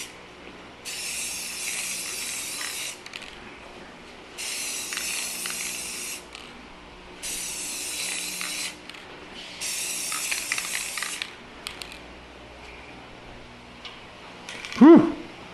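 Aerosol spray paint on a Toyota Tundra grille during emblem removal and refinishing, four steady hissing bursts of roughly two seconds each with short pauses between, close and fairly loud, ending with a brief clatter.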